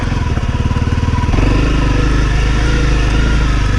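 A Honda CRF250L motorcycle ridden on an off-road dirt trail, its engine a loud, close, continuous throbbing drone that shifts slightly in pitch partway through.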